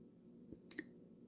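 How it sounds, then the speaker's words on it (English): Two quick, faint clicks from the check valve inside a TiPX quick-disconnect remote line adapter as it is pushed on, separated by a short pause in a quiet room. "You can hear that clicking noise."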